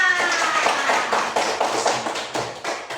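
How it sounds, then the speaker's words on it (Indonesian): Schoolchildren in a first-grade classroom clap their hands together in a brief, fairly close burst of irregular clapping with no talk over it. "Tepuk tangan untuk kita semua."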